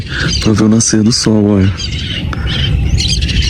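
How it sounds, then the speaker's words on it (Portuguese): Birds squawk and chirp at sunrise under a person talking close by, their calls rising briefly between and after the spoken phrases. "junto com o barulho, né, com o canto dos pássaros ali"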